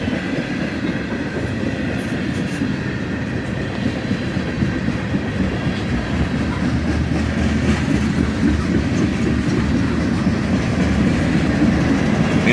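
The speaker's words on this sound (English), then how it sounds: "This is an unusually large amount of tankers for just a manifest train." A CSX manifest freight train with many tank cars and aggregate cars rolls past, making a steady rumble with continuous clickety-clack of wheels on rail joints, loud and unbroken throughout.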